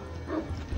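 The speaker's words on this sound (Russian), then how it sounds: "О, собака!" A dog barks in the medieval strategy game Decision: Medieval, a short muffled yelp or woof set over a steady low game background hum, with no talk.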